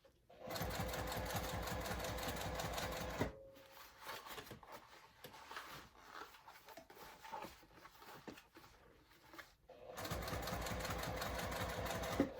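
Sewing machine stitching fabric: a fast, even mechanical rattle in two bursts, with a quieter pause between them filled with light handling noises.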